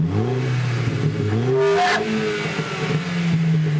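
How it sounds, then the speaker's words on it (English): A Volkswagen Golf GTI engine revs up, pitch climbing then easing back down to a steady idle, loud and close with no voices. "Let's give it a little rev, see what it sounds like with a bit of accelerator pedal."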